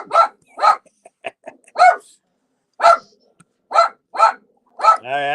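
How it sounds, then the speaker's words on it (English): A dog barks loudly and close up, about eight sharp barks in uneven bursts with short pauses between them, ending in a brief higher whine or yelp. "And my dog jumped up. They ain't barking at you."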